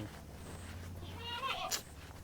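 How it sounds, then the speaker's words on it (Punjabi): Goats bleat softly on a goat farm in Punjab, a wavering nasal cry rising over a low background hum, with no talking. "ਇੱਧਰ ਵੀਰੇ ਦੀਆਂ ਬੱਕਰੀਆਂ ਨੇ"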